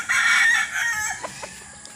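A rooster crows once, a loud drawn-out call that fades off, with a few soft clucks afterward.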